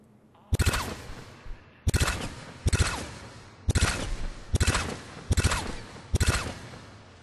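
Hornet gun in Mass Effect 3 firing from the hip at mid to long range, six separate sharp bursts of rapid shots, each a tight cluster of cracks with short ringing tails, spaced about a second apart, no talk.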